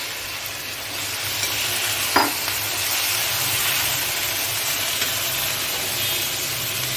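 Potatoes and cauliflower stirred in a hot pan, a steady close sizzle and frying hiss with a brief scrape of the spoon.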